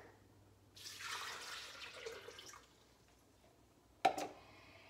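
About two and a half cups of water poured into a kitchen blender for soup: a soft splashing pour lasting roughly two seconds, then a quiet pause and a sharp single knock, with no talking.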